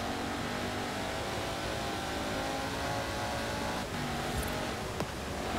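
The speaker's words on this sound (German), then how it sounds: "Schön dicker V8-Motor mit Kompressor." Supercharged V8 car engine in the racing game Forza Horizon 4, a steady loud drone that rises and falls slightly as it revs, running continuously without speech.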